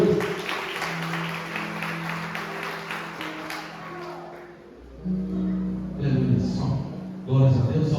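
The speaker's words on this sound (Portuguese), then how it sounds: "Aplauda Jesus nesta noite." A church congregation applauds during a Portuguese-language evening worship service. The clapping is moderate and mixed with a voice talking over it, with music or low tones underneath and bursts of cheering near the end.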